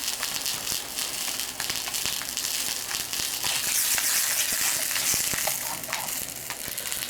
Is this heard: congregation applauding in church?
no